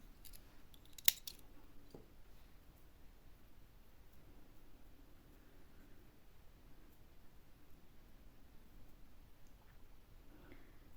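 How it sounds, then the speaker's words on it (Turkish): Scissors snip through crochet yarn in one quick, sharp cut near the start, followed by faint rustling in a quiet room. "ipimi kesiyorum"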